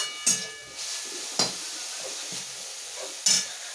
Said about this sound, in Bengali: আর এখানে এখনও পটলের শাক ভাজাটা হচ্ছে